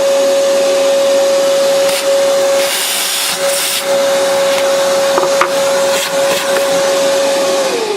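A vacuum cleaner drones steadily and loudly up close while sucking debris out of a Mahlkonig Pro M series coffee grinder, with a constant whining tone and occasional rattling clicks as bits get dislodged.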